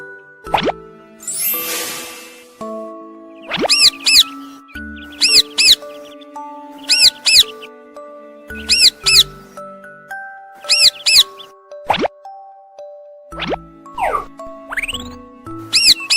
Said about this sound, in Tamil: பச்சை கிளி கீச்சிடும்.